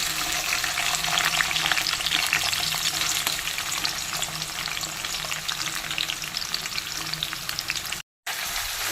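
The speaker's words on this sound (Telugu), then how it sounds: "ఆనియన్స్ వేసేస్తాం కదా, ఒక 5 మినిట్స్ వేగనివ్వాలి." Long-sliced onions frying in a pan for spicy Andhra chicken fry, a loud, dense, steady crackling sizzle close up that drops out in a brief gap near the end, with no talking.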